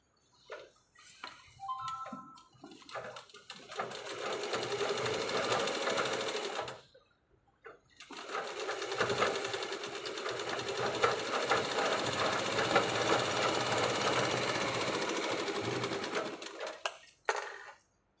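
A sewing machine runs in two long bursts of stitching through blouse fabric and lining, loud and steady, with a short pause between the runs.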